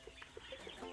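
Young chicks cheep and cluck in soft, scattered bursts inside a divided pen on a rural farm, faint and close with no other sound around them.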